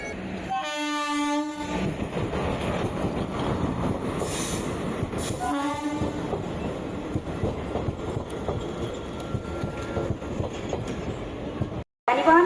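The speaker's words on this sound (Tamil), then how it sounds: "அது ஒரு லோக்கல் ட்ரெயின் வந்து பார்த்திங்களா" A local train rumbles steadily through Tambaram station in Chennai with clattering wheels, and a loud horn blasts twice, first near the start and again midway.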